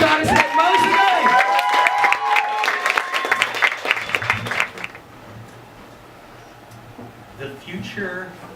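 Live literary salon audience applauding and cheering for about five seconds while a voice talks over it, then the clapping fades to quiet room tone before a speaker begins.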